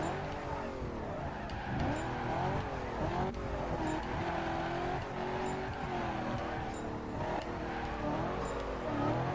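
Car drifting with tires squealing, a continuous engine drone rising and falling with wavering squeal tones, steady and close, no talk.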